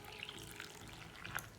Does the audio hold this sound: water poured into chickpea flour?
yes